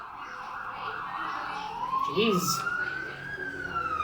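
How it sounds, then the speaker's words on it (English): Ambulance siren wailing and rising in pitch, fairly close and loud over ambient noise, with a brief spoken exclamation partway through. "I think that's an ambulance."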